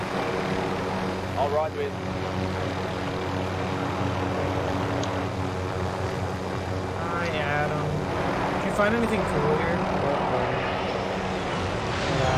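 A helicopter engine in the video game Warzone drones steadily as a low rumbling hum under casual voice chat between players, continuous and fairly close.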